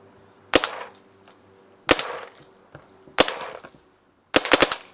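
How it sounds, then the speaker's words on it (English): Four separate sharp gunshot cracks from a rifle at the range, spaced about a second and a half apart, each with a short ringing decay, the last one a quick burst of several shots, loud and close. "we're going to shoot a couple"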